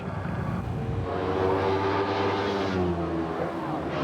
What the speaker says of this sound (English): Motorcycle road racing is perhaps one of the most human in all of motorsport.